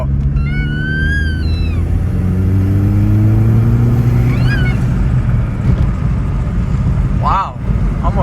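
A VW Mk4 Jetta 1.8T turbo accelerating hard from low revs in third gear, a loud steady engine drone climbing in pitch for several seconds, close up inside the car, with a brief chirping squeal near the end.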